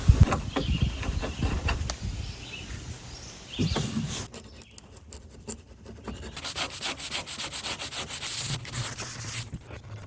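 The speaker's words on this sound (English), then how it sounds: "I'm just going to scrape as much of this stuff off as I can." Close, scratchy scraping strokes as excess epoxy is scraped off the hull of a 1991 Old Town Pathfinder canoe, uneven in rhythm, with a few heavier bursts and faint birdsong in the background.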